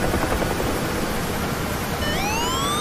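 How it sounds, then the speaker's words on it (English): A UH-1H Huey helicopter in the DCS flight sim, engine under strain with the collective pulled hard, a dense loud turbine roar and rotor wash, joined near the end by rising whining tones, no talking. "Hear the engine struggling?"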